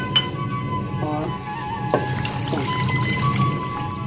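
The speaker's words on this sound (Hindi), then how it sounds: "इसमें तमाम मसाला जात और पानी डाल के रख दिया है" Water pours and trickles into a cooking pot (handi) holding desi chicken and whole spices, with light clinks of utensils, close and brief with no talk.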